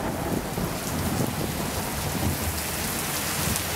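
Steady heavy rain pours down during an evening storm under an orange sky, with low rumbling thunder beneath the constant hiss; no talking.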